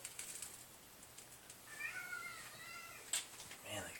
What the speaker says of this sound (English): Man, the cat's yelling at me.